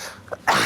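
A single sharp, loud sneeze bursts out close by near the end, after a brief soft breath in.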